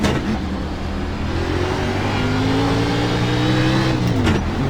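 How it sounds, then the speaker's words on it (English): Loud, steady engine drone of a race car in the iRacing sim on an oval track, holding a sustained pitch that dips slightly near the end, with no talk over it. "You hear the engine noise is very loud."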